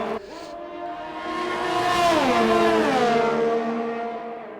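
A race car in a racing video game, set on an Italian circuit, passes with a loud engine note whose pitch rises as it approaches, then drops as it moves away, and stays prominent and sustained.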